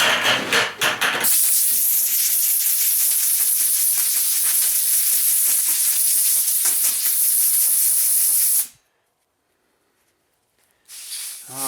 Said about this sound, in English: we're going to hit it with the air compressor again here